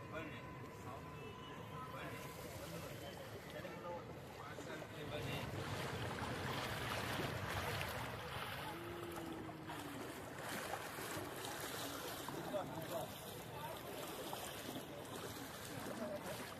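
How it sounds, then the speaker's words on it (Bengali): A tourist boat moves slowly across a lake in Udaipur, with a steady wash of water, wind buffeting the microphone and a low engine drone running throughout, while people talk nearby. "বোটে করে রাইড শুরু হয়ে গেছে"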